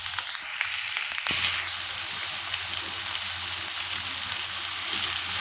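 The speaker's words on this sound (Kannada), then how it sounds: "ಅದನ್ನು ಕೂಡ ಸೇರಿಸ್ಕೊಂಡು ಈಗ ನಾವು ಈರುಳ್ಳಿಯನ್ನು ಚೆನ್ನಾಗಿ ಬಾಡಿಸ್ಕೋಬೇಕಾಗತ್ತೆ" Sliced onions fry in hot cooking oil for a spicy goat lung dish, giving a steady, close, even sizzle that runs without a break and carries no talk.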